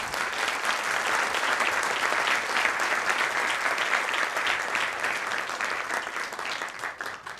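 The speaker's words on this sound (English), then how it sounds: "I think we must give another huge round of applause to Professor Yadav" An audience at a lecture event in Pune gives Professor Yadav a big round of applause, dense and loud, holding steady for several seconds with no voices on top.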